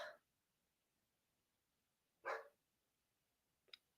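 Dogs barking in short bursts, a quick yelp at the start, a louder bark in the middle and a faint double yip near the end, set against a quiet background.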